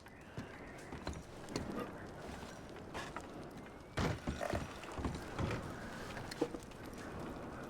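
Horses in Red Dead Redemption 2 clip-clop with scattered hoof knocks and thuds, some louder strikes midway, over a quiet outdoor background.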